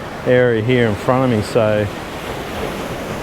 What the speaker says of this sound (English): There's some all right water flow coming through this little